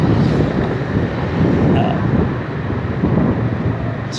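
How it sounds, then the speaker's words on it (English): Outdoor wind buffeting the microphone in Saigon, a loud, constant low roar with gusty swells and no clear pauses. "Hopefully it's not too windy for you."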